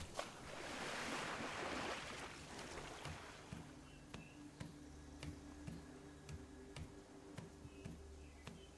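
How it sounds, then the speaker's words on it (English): Rushing waterfall in the video game BitCraft Online, a broad watery wash strongest at first, then softer beneath steady game music and scattered light clicks. "Oh, we got one of those magical double-sided waterfalls"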